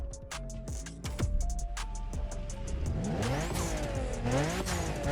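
A Honda fitted with a V6 turbo JDM engine sound in The Crew Motorfest revs and accelerates hard, engine pitch climbing and falling through repeated sweeps, with brief clicks and bursts over the loud, continuous drone.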